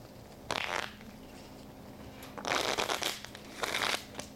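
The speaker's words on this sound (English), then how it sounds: "You shuffle the wardrobe deck." Cards are shuffled three times in quick riffling bursts, close by, with short pauses between each shuffle.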